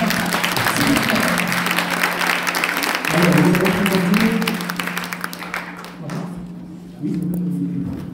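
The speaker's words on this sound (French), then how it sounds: "Je pense que vous n'avez pas suffisamment applaudi pour Laetitia Mampaka." Audience applause for Laetitia Mampaka at an award ceremony in Brussels, steady crowd clapping throughout with a sustained tone and muffled voices mixed underneath.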